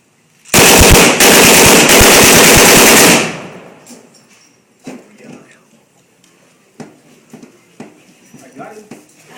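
A Browning Automatic Rifle fires a single long, loud burst of rapid automatic shots lasting about two and a half seconds, close and echoing, followed by sparse clicks, handling noises and faint distant sounds.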